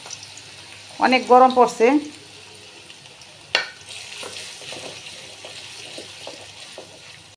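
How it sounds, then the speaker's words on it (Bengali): Onions are dropped into hot oil in a home kitchen, giving a loud burst of sizzling that settles into a softer steady crackle, with someone talking over it. "তেলটা গরম হয়ে গেছে, গা পেঁয়াজ দিয়ে দিব"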